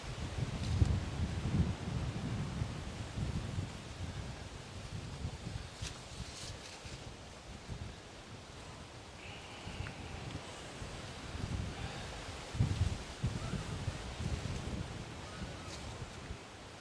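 Strong wind buffets an outdoor microphone with deep, uneven low rumbling gusts that swell and ease throughout, with a faint rustle on top and no voices.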